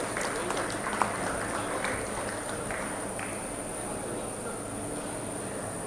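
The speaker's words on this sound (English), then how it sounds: "Can we once again have a huge round of applause," Audience at the ISF 2024 event clapping in a steady round of applause, a dense patter of many hands heard at moderate distance with a faint tone underneath and no talk.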